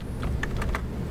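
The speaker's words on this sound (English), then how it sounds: "So I'm typing up here in the left corner" Quick taps on a computer keyboard while entering a name into an Excel spreadsheet, several clicks in a short irregular burst over low room hum, close and fairly quiet.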